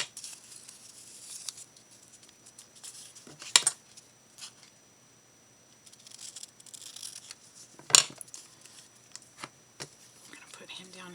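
Scissors trim the edge of a paper sewing pattern in quiet, close snips and rustles, with a couple of sharper paper crinkles standing out.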